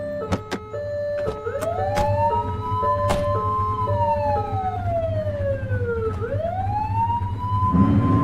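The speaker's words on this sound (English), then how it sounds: "You're only meant to use the siren in emergencies." A police siren in the game The Precinct wails with a rising and falling tone, mixed with electronic beeps and sharp blips, steady and fairly loud, with game-like sound effects.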